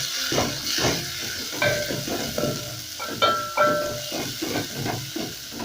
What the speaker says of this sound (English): And once that is hot enough, I'll go in with my onion.